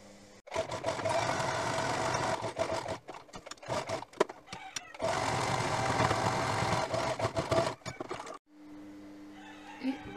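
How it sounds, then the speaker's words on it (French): Domestic sewing machine running a zigzag stitch on a washcloth, loud rapid whirring in two long bursts with short pauses and a clunk between them, then it stops. "Alors, je fais un point zigzag."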